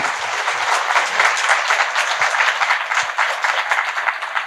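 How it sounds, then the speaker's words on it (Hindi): Indoor audience at an interview event breaking into loud, sustained applause, a dense steady patter of many hands clapping without speech. "एक बार जोरदार ताली योगी जी के लिए।"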